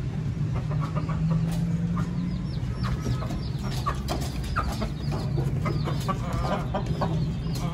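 Aseel chickens cluck and murmur continuously close by, with a rooster's low calls mixed in and occasional sharper squawks, steady farmyard ambience.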